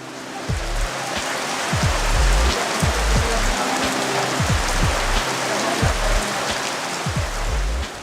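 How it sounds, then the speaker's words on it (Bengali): Monsoon rain falling in Bangladesh, a dense, steady wash of rain on surfaces with heavier drops thudding close by at irregular intervals, no talk. "পরক্ষণেই বৃষ্টির রিমঝিম ছন্দ দোলা জাগায় প্রকৃতির বুকে"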